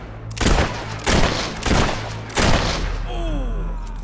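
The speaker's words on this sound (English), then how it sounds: "She shot you good, mate." Several loud gunshots ring out in the video game Fable 3, four sharp reports spaced roughly half a second to a second apart, followed by a brief whistling tail with no talk over them.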